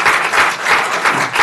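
Audience applause at a Manhattan Beach city council meeting, a dense burst of many hands clapping at once, steady and fairly loud throughout with no voices on top.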